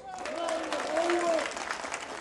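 Brief burst of applause at a football club's first training session, a steady patter of clapping with voices mixed in.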